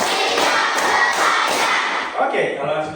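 Children in an Indonesian classroom clap together in a quick counted rhythmic pattern, loud and close, with a lively crowd of young voices shouting over the claps.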